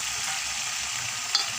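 Peanut paste fried with tomato paste in a hot pan, giving a steady soft sizzle close by with faint scraping of stirring and a couple of brief clicks near the end, no voices.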